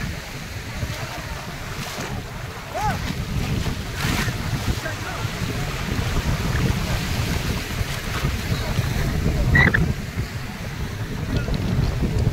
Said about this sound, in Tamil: அலை வந்து பார்த்தீங்கன்னா ஓவராக இருக்குங்க ரொம்ப.